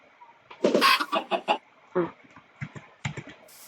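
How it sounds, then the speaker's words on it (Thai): Chick clucking in Minecraft, a series of short clucks and chirps in quick bursts, fairly close and clear, followed by a few softer peeps. "อ่าลูกไก่ติดซอก"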